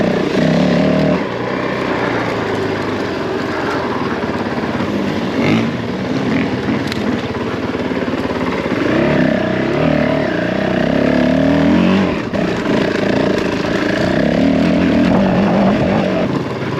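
Honda CRF450L enduro motorcycle riding through a quarry, its engine droning continuously with rising and falling revs, heard from on the bike amid wind rumble.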